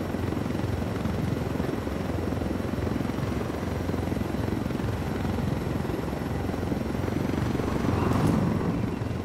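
A helicopter flies in the Ghost Recon: Fallen Ghosts video game, its rotor producing a steady, close, continuous chopping drone that swells slightly toward the end, with no talking over it.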